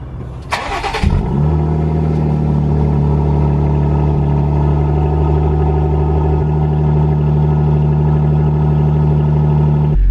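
Jeep Wrangler JL with a new aftermarket exhaust, started on a 55-degree morning: a quick crank catches, and then a loud, deep idle rumbles steadily close by with no talking.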